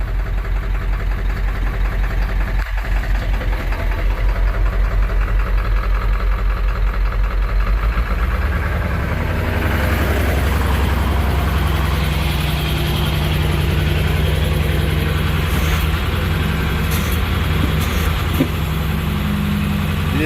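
A Ford F550 rollback tow truck's engine idles steadily and loudly nearby with its PTO engaged, a deep continuous rumble that grows heavier and fuller partway through as the power take-off load comes on.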